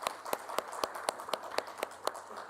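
Sharp, regular claps ring out about four times a second over a soft rumble, like one person applauding steadily nearby.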